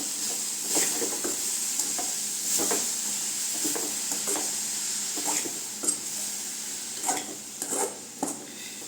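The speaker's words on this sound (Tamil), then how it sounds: "அந்த சூட்லேயே கிண்டி விடலாம்." A spoon stirs a radish greens and coconut stir-fry in a hot pan on a switched-off stove, giving repeated scraping strokes against the metal with a faint lingering sizzle, close and rhythmic over several seconds.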